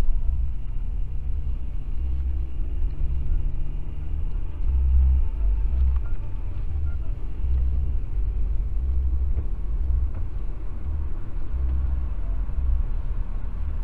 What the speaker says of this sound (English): As you can see right now, I'm driving a front-wheel drive vehicle with all-weather tires